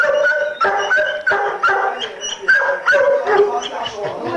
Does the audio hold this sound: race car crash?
no